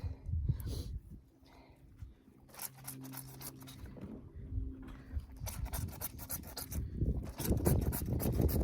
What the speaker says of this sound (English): you look for like a stainy spot and you're just gonna rub it like that